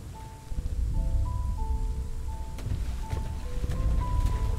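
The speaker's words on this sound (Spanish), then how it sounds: "Está lloviendo." Rain falling in the video game RIME, a soft steady hiss and patter under low rumble, accompanied by gentle sustained musical tones.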